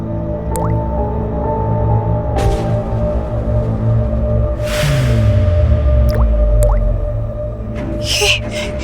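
Water drips fall one by one in a resonant, echoing space, with wet squishy plops and a low droning hum, loud and close with no voices.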